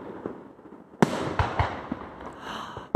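Fourth of July fireworks in Aurora popping in a quick series of sharp bangs after a quiet rumble, followed by fainter crackling and fizzing bursts.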